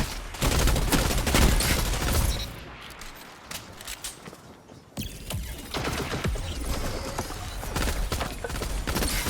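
Rapid gunfire from a Destiny 2 firefight, loud dense bursts of shots that ease off briefly in the middle before heavy firing resumes, with game effects mixed in.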